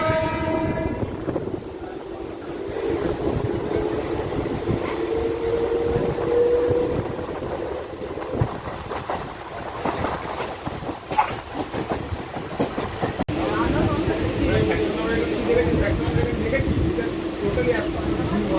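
A Kolkata to Digha local train rumbles steadily with rhythmic clattering of wheels on rails, a horn sounding briefly near the start, and voices talking faintly over the noise.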